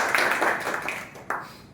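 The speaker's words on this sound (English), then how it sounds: "Let's give a huge round of applause to all of us." Small indoor audience applause at a club meeting, a few seconds of scattered hand clapping that fades, with one sharper clap near the end.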